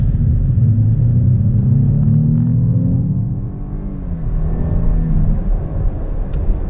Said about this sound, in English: Let's get an acceleration with this bad boy Blazer.